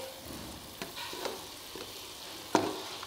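Ladyfingers (okra) fry in a pan with a low, steady sizzle punctuated by several soft stirring clinks and scrapes, one louder knock near the end, no talk.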